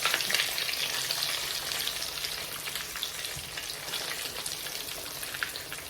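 A breaded pork chop frying in a pan of oil, heard as a continuous dense crackling sizzle with fine popping, close and even throughout.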